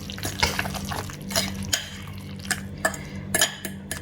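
Guacamole is stirred in a bowl with a utensil, giving soft wet squelches and scattered clinks against the bowl in an irregular mixing rhythm, close and fairly quiet.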